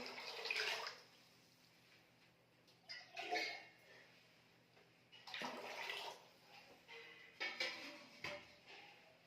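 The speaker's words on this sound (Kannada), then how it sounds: "ಅದಕ್ಕೆ ತಕ್ಕ ಮೂರು ಪಟ್ಟಷ್ಟು ನೀರು ಹಾಕಬೇಕು" Water splashes and pours into a pot in several short bursts, close by, separated by quiet pauses with faint background hum.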